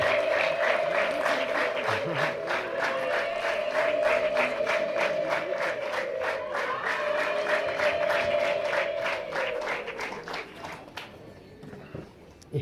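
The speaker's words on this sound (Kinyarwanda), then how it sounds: "Nyamuneka impundu ni gatatu." Women ululate in a sustained high trilling chorus at a Rwandan engagement and dowry ceremony, repeated in three rounds, the voices held steady over rapid rhythmic clapping from a crowd before fading near the end.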